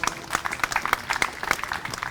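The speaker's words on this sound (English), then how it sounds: "give her a big round of applause" An outdoor Independence Day crowd in the town of Somerset breaks into applause, a brief burst of uneven clapping with sharp individual claps standing out close by.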